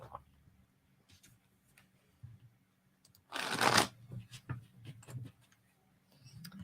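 Tarot cards being shuffled in a quick, loud riffle burst near the middle, surrounded by softer scattered card taps and handling noises at close range.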